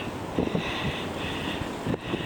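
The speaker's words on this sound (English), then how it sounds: "Oh, and it's very windy." Strong spring blizzard wind buffets the microphone, a continuous rumbling roar with irregular gusty thumps and no speech.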